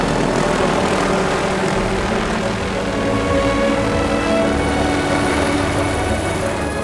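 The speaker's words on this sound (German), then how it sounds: "Du siehst, wie die Helis da fliegen." Air Zermatt helicopters fly near Zermatt, giving a loud, continuous engine and rotor drone that stays level throughout with no voices over it.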